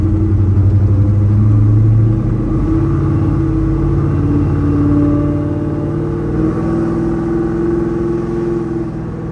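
A 1970 Chevrolet Chevelle driving on the road, its engine a loud, close, steady low rumble that swells briefly at the start and then settles into a smooth cruise, with no talk.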